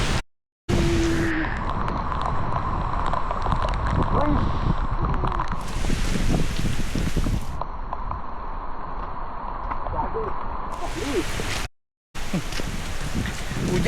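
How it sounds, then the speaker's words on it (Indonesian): Heavy rain and strong wind roar continuously at a mountain peak, a dense, loud wash of noise that fills the whole stretch, briefly cut by two short dropouts. "Hujan makin kencang, angin makin kencang"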